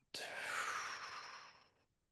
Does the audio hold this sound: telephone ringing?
no